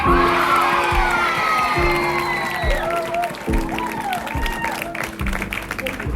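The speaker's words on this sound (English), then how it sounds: "Let's give a big round of applause to our 3 finalists." An audience applauds and cheers for three finalists at a talent show, with loud sustained clapping, whoops and high excited children's shouts all layered together, full and close throughout.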